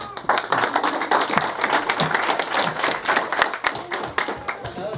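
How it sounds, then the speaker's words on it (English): Audience clapping for children at a church Christmas celebration, uneven and fairly close, with distinct individual claps and some voices talking in the background. "let's clap for them"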